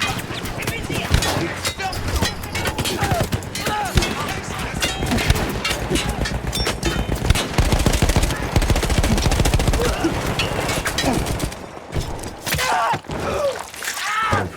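A mounted machine gun fires in the World War I shooter Battlefield 1, a steady, dense rattle of rapid shots with battle noise, running loud and continuous under a talking voice.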